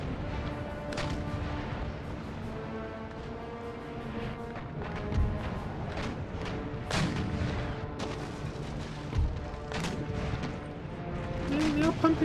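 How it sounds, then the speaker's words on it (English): Ship cannons fire broadsides in the naval strategy game Empire: Total War, a steady crackle of booming shots and sharp gunfire bursts over a continuous battle din, with a voice talking at times. "Pumping broadsides into us."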